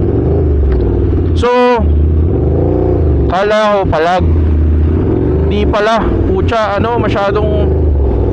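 A loud motorcycle engine drones steadily throughout a ride, picked up by a wireless mic on the helmet and bike, with someone talking over it.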